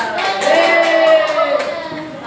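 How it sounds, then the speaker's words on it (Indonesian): A classroom of pupils claps for a group presenting a recipe, a few sparse claps standing out over a sustained tonal sound and some voices. "Ya, tepuk tangan untuk kelompok Anggur."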